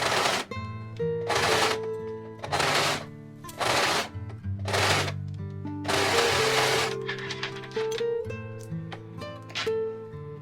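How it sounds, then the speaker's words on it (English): An overlocker stitches the cuff seam of a dress in repeated loud, fast mechanical bursts with brief pauses between runs, close to the machine. "You can finish off the cuffs by overlocking the seam"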